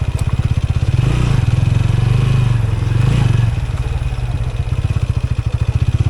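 A motorcycle engine runs loud and close during a ride, a rapid regular thumping pulse with a low steady drone that swells slightly in the middle, rough and mechanical throughout.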